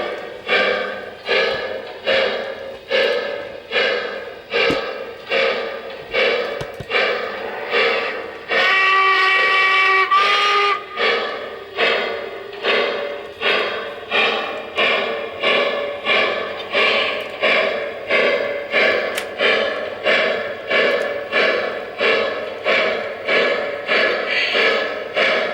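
A Lionel brass hybrid model steam engine, Central Pacific Jupiter or Union Pacific #119, plays rhythmic chuffing sound effects that run steadily and close, broken in the middle by a couple of seconds of shrill steam whistle before the chuffing resumes.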